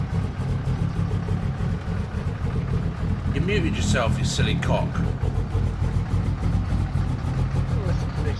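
A truck engine from an amateur engine pack sound mod in Euro Truck Simulator idles with a steady low rumble, then revs briefly, while people chat over voice chat on top of it.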